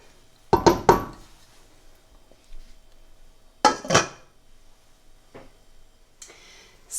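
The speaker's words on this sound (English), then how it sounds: "So I will now pop the lid on" A metal lid is set onto a cooking pot of frozen spinach, landing in a few quick clinks. More light knocks and clatter follow a few seconds later, close and fairly loud in an otherwise quiet kitchen.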